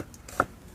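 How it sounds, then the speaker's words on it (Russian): A single knife stroke through an onion on a cutting board, one short crisp chop in an otherwise quiet moment outdoors. "еще раз пополам луковицу и пошли нарезать"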